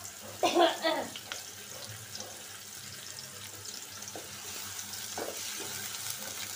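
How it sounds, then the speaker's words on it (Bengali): Onions and green chillies frying on low flame for a rui-style fish head curry, a soft, steady sizzle with a few stirring scrapes near the start; faint voices murmur in the background. "চুলাটা কমাই দিলাম, পেঁয়াজটা লাল হোক"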